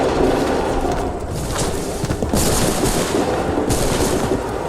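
A volley of musket gunfire in the game Assassin's Creed III Remastered, a dense crackling burst of many shots followed by further sharp bursts around two and a half and four seconds, loud and close.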